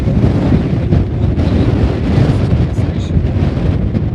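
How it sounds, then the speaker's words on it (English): Strong outdoor wind buffets the microphone in a steady, loud low roar on a rural property with dead trees, with a few faint higher sounds in the background. "You can hear the wind."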